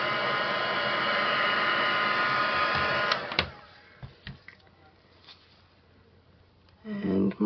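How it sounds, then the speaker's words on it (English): Heat gun blowing across a thin coat of coating on a skull coaster, a steady loud whoosh for about three seconds that cuts off, followed by faint handling clicks and a brief rustle near the end. "I'm just going to see if I can spread this with my heat gun for a minute"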